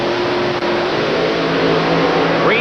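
Drag race cars, a Dodge Daytona and an Oldsmobile, roar loudly at a 1987 IHRA Northern Nationals event in Milan, Michigan, with sustained engine noise and a rising rev near the end.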